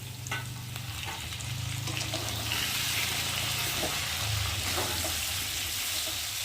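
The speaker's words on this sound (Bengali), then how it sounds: "দিয়ে মশলাটা ভালো করে কষিয়ে নেব" Spice paste of ginger, cumin and garlic pastes with turmeric, chilli powder, salt and tomato fries in a pan for a jackfruit dish, a steady close sizzle with occasional stirring scrapes.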